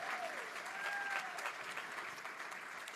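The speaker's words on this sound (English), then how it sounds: "Let's give Oxnard a round of applause for being in the house." At a plenary session on gerrymandering, a conference audience applauds a visiting group from Oxnard, a brief burst of dense clapping from many people with a whistle or two rising above it.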